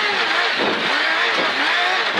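Rally car engine in a 2018 Rantaralli stage held at full throttle, a loud, continuous high-pitched roar heard from inside the car with rising and falling pitch.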